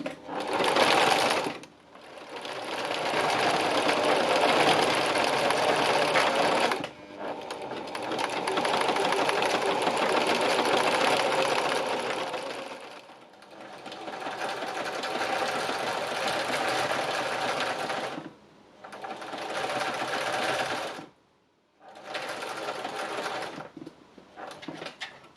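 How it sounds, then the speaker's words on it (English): A sewing machine stitches pinned leaves onto fabric in several long runs of fast, steady mechanical whirring, each lasting a few seconds and separated by brief pauses, loud and close with no talking. "I'll take them over to the sewing machine and we will get them stitched"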